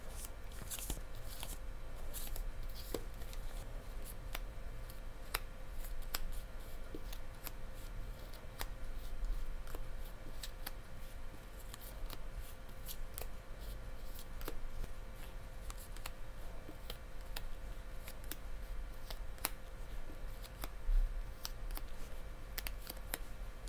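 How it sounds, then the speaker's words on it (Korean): Tarot cards are drawn and shuffled in a quiet room, with soft scattered clicks and papery snaps recurring irregularly throughout, close and faint, with no talking. "그러면 지금부터 카드를 뽑아 보겠습니다"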